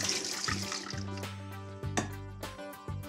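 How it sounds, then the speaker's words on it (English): Quinoa being rinsed under a running kitchen tap, with a steady stream of water pouring and splashing in a sink, close and fairly loud throughout. "I like to give the quinoa another rinse now"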